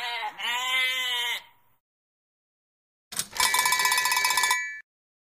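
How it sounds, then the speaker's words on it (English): A single long sheep bleat, then a pause, followed by a burst of rapid clanking cowbell ringing. "A sheep."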